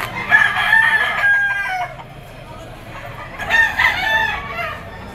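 A rooster crows twice, once at the start and again after a pause, loud and close among gamefowl at a Lipa auction market, with background voices and low crowd murmur underneath.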